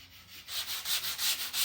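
Angled sanding block rubbed up and down along the edge of a foam model plane wing, a soft rhythmic scratchy swish repeating about every fifth of a second, close and quiet.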